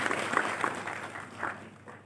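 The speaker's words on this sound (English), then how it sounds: "Can we have a round of applause for him" Audience applause at a convocation ceremony for the Governor of West Bengal, a brief burst of clapping from a crowd that fades over about two seconds.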